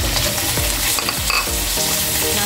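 Shredded chicken sizzles and fries with garlic and onion in a pan for a cabbage stir fry, loud continuous crackling with several short scraping stirs, close up and without talk.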